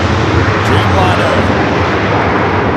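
A Boeing 787 Dreamliner begins its takeoff roll on runway 24 left at LAX, giving a steady, loud broadband jet roar with a low rumble that holds constant and close throughout.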